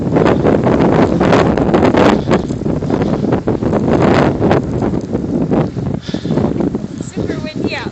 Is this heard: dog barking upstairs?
no